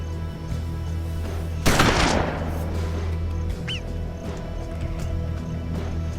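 A shotgun fires once in the Hard West video game, a single loud blast that trails off over a steady low hum, followed by a faint chirp.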